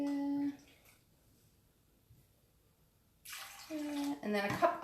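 Water and apple cider vinegar are poured into a measuring cup for a pulled pork recipe in a home kitchen, with a short splashing pour at the start and a longer, louder pour near the end under tapping and handling noise.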